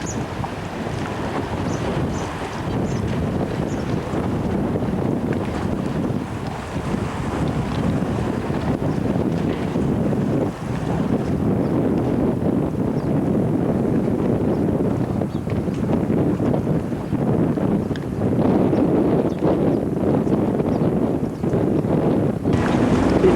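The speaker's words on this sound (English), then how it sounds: "You can hear the wind blowing in and you can see how rough it is out there" Strong wind blowing in off a rough sea at a harbour lined with fishing boats, gusting across the microphone in a loud, continuous rumble that swells and surges throughout, with waves churning underneath.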